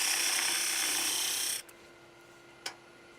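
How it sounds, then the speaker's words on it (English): A parting tool and a 3/8 spindle gouge cut coves into spinning wood on a lathe, a close, steady rasping hiss that stops abruptly, leaving the motor's faint hum and one brief scrape afterward. "Pretty much use two tools, parting tool and in this case a 3/8 spindle gouge. Just one cove after the other."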